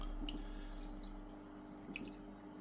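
A sand waterfall in a home aquarium trickles with a soft, steady wash of water, and two faint drips land about two seconds apart.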